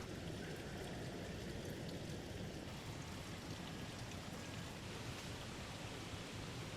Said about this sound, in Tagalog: And then, malalaglag siya dito sa butas. Parang waterfall.